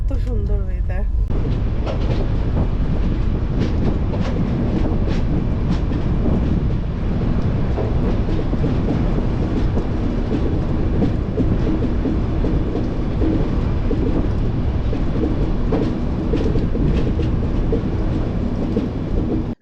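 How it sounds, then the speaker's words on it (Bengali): A passenger train pulls into Kanyakumari terminus station, a steady loud rumble of rolling wagons with faint clatter running throughout, with voices murmuring faintly beneath. "রাইট টাইমে কন্যাকুমারী স্টেশনে গাড়ি ইন করলো"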